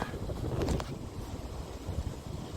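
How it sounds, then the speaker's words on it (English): Gusty wind buffets the microphone with a constant low rumble and roar, loud and close, briefly swelling early on. "It's definitely a bit windy."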